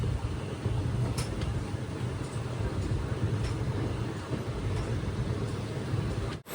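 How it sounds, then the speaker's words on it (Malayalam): The Rajya Rani Express pulling into Tuvur railway station on the Nilambur line, a steady low rumble and rolling rattle of the train continuing evenly throughout, with faint clanks above. "ട്രെയിൻ ഇതാ തുവൂർ റെയിൽവേ സ്റ്റേഷനിലേക്ക് എത്തുകയാണ്"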